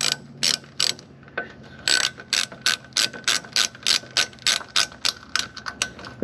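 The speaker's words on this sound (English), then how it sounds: "you're gonna take your ratchet, I'm gonna hold your jacking puck, and you're gonna go ahead and you're gonna just get it tightened up here." A hand ratchet clicks in quick repeated bursts while tightening a car jacking puck, each stroke a crisp metallic ratcheting rattle close to the mic, with no talking.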